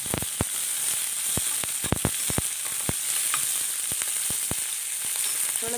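Curry leaves, green chillies, chopped garlic and ginger frying in hot oil, a constant bright sizzle punctuated by scattered sharp pops and crackles, close and fairly loud with no talking.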